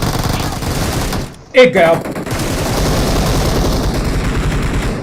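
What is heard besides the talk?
gunfire in video game BGMI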